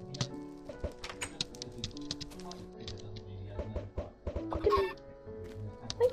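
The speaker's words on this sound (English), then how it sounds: "Okay, this is the chicken pen." Chickens clucking in a pen inside a video game, busy overlapping clucks and squawks mixed with game sounds, while a person talks over them.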